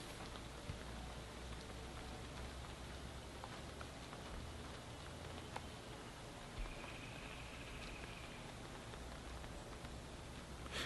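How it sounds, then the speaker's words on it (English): Steady rain falls on surfaces all around, a soft, even hiss of drops with no voices. "That rain won't let me be great, man."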